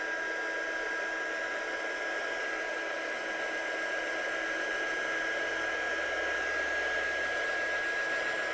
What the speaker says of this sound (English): I'm just going to blast this with a heat gun so it's dry.